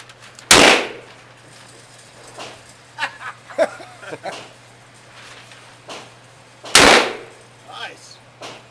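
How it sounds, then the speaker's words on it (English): Large gun fired at an indoor range at a Las Vegas gun store: two loud, sharp booms several seconds apart, near and dominant, with softer clanks and handling noises between them over a steady low hum. "Unbelievable shooting at the gun store, Las Vegas, Nevada."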